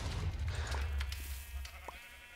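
Sheep bleat in the Epicube Sheep Wars game, a few short nasal bleats layered over a steady low game hum, with no talking.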